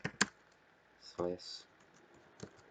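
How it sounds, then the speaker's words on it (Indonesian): Someone types a command on a computer keyboard, sparse sharp key clicks close and quiet, spread unevenly under a man's speech. "Kemudian kita ketikkan ip config"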